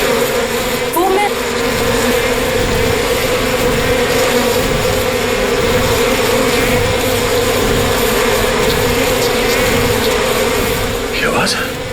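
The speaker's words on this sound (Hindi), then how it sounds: "क्या आवाज है? किसी ने मधुमक्खी को छेड़ दिया क्या?" A swarm of bees drones in a steady, loud, continuous buzz that fills the whole stretch, with no voices over it.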